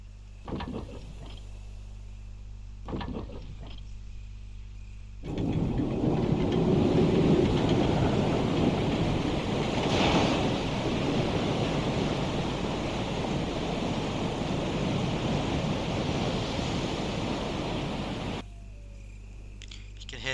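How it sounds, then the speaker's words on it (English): Broad steady rushing water roars for most of the stretch in a Resident Evil HD Remaster game scene, a continuous wash that swells in, holds evenly, then drops away, with quieter ambience before and after. "Hear the sounds of a waterfall in the distance."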